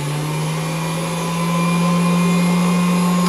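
A Hamilton Beach Model 40 triple milkshake mixer spindle runs on low speed with a loud, steady motor whine and a hum that rises slightly partway through, with no voices.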